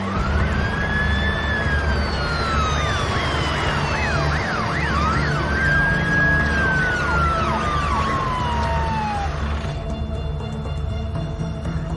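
An ambulance siren wails and yelps in rising and falling sweeps over steady traffic rumble, loud and continuous, as if passing nearby.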